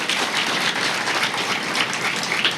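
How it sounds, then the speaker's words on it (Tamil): An audience at a Tamil comedy pattimandram debate event bursts into dense, loud applause, a continuous wash of many hands clapping at once that holds steady throughout. "ஒரு பலத்த கைத்தட்டலோட ஆரம்பிச்சிருவோமா?"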